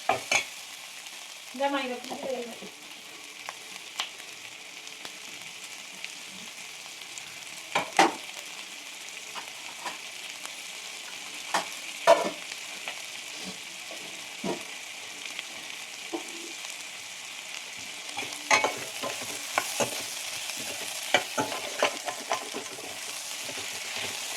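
Garlic cloves sautéing in oil for chicken kurma, a soft continuous sizzle with occasional spoon clicks and stirring scrapes, moderately close and fairly quiet, no talking.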